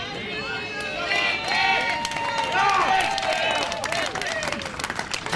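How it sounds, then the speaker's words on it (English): Cheering and shouting from a crowd supporting the Benoni Bowling Club ladies in a women's pairs semi-final on an adjacent green, steady and moderately loud across the whole clip, mixed with voices and some clapping. "The cheering you can hear is in support of the Benoni Bowling Club ladies"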